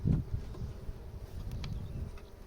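Honeybees buzzing around an open beehive while a super is added with frames of brood and a wax foundation sheet, a steady low drone with a louder burst at the start and scattered close passes.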